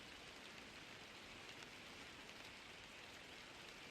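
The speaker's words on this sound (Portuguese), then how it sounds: "eu coloquei um barulhinho de chuva" Steady rain sound effect mixed quietly into a lo-fi remix of a funk track, a constant broadband hiss of falling rain with no voices.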